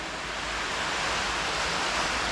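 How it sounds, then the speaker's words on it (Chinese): An underground waterfall in a cave makes a steady, even rush of falling water, close and continuous with no pauses and no voices. "在这个洞穴中，我们遇到了一条瀑布"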